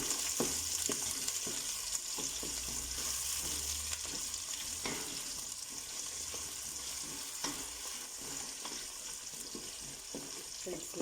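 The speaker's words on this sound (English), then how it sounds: "I'm going to give this a stir." Mutton and softened aromatics fry and sizzle steadily in a pan while being stirred, with soft scraping and clinks over a continuous close crackle.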